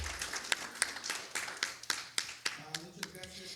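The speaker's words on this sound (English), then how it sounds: "we would like to clap for our field workers" Sparse, uneven hand claps from a small group at an immigration resource forum applauding field workers, about a dozen distinct slaps spread across a few seconds in a quiet room.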